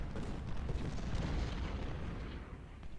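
Distant artillery fire rumbles through a Civil War battle at Malvern Hill in the strategy game Ultimate General: Civil War, a dense, steady low roar of overlapping booms with no clear single shots.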